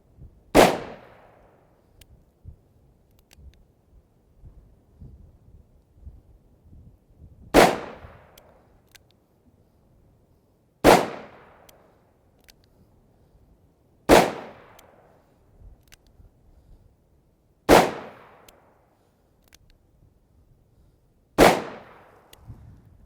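Six loud, sharp gunshots from a Smith & Wesson 686 .357 Magnum revolver fired at an outdoor range, each a few seconds apart and followed by a short decaying echo, with no talking between shots.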